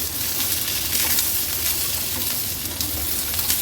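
Green chilies and jackfruit seeds roasting in hot oil make a loud, continuous close-up sizzle and hiss with faint crackles, steady for a few seconds without any voice.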